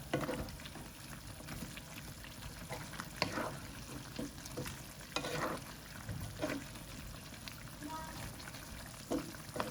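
Chicken adobo frying in a pan while being stirred, a constant close sizzle broken by repeated scraping strokes of the spatula at an uneven rhythm.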